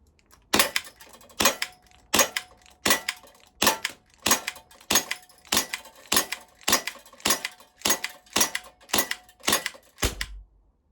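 A series of about fourteen sharp snapping shots from a baby Desert Eagle airsoft pistol, fired alone at a steady, evenly spaced pace with short gaps between.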